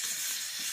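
Curry leaves dropped into hot oil for a dahi vada tempering, giving a short, bright, steady hiss of sizzling close by.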